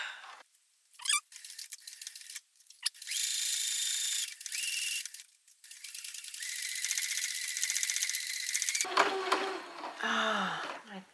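A sewing machine stitches a key fob dangle in several sustained whirring runs of varying length, loud and close, broken by short pauses and a few clicks, followed by a voice speaking at the end.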